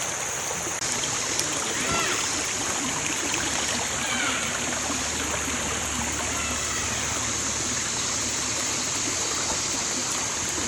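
A shallow creek beside a family cabin, with water babbling steadily over stones in a continuous, moderately quiet wash, while a faint high-pitched insect or electrical tone holds in the background throughout.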